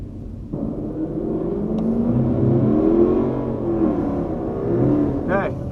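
A Chrysler 300 SRT8 sits staged at a drag strip start, its engine revving and swelling in a steady rising drone, with someone talking over it.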